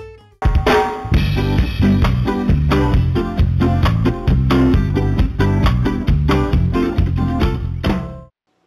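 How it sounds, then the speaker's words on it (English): A bright melodic school morning bell chime sequence plays for about eight seconds, many notes in steady succession, loud and clear with no talking, then stops abruptly. "The morning bell will sound like this."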